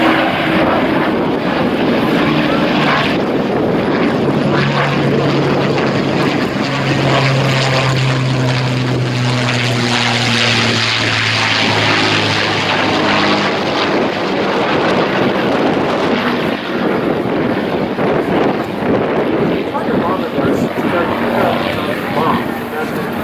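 A de Havilland Mosquito warbird's piston engines drone and roar with propeller thrum, swelling as the twin-engine aircraft passes, loud and continuous throughout while someone speaks over it.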